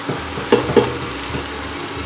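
Egg sukka masala with red chilli powder and spices is stirred in a hot pan, giving a soft sizzle with two quick scraping strokes near the start.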